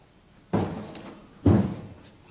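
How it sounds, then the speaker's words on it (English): A house door opens and closes as a visitor comes in, giving two solid, near thuds about a second apart in a quiet room, with no talk. "Come in, the door's open."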